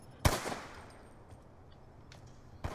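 Gunfire from the Call of Duty Black Ops 2 Cav 40 in a match: one loud, sharp burst near the start, faint scattered shots after, and another sharp report at the end.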